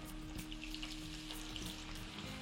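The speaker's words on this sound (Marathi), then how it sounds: "आता आपण ह्याच्यात तळून घेऊ" Chana dal fries in hot oil, giving a dense, steady sizzle with soft crackles and bubbling throughout, close and continuous with no talking.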